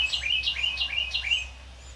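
Carolina wren nestlings give a quick series of about five rising, high-pitched chirps in the first second and a half, fairly loud and close against a low steady hum.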